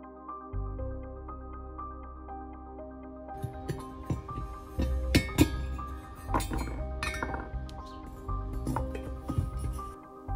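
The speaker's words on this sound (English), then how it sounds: "I have to very carefully cut off all the sprues and then try to blend them into the original sculpture" Sprues are cut off a bronze casting of an Alien Queen sculpture, with a steady ringing tool whine overlaid by sharp metallic clinks and knocks at close range, and no talking.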